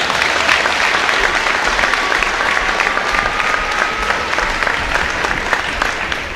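Loud, dense crowd applause fills a college men's basketball gym in honour of departing seniors, sustained and even throughout, with a faint tone running underneath.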